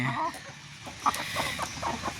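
Chickens, including a small bantam-type bird, cluck in the evening with a few short, close calls over a steady farmyard hum.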